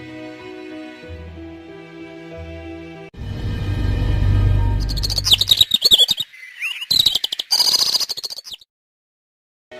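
Cartoon parrot chirping and tweeting in bright, rapid bursts after a stretch of music and a whooshing rush, the calls loud and close, fluttering in several clusters before cutting to silence.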